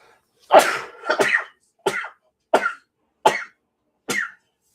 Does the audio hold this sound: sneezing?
yes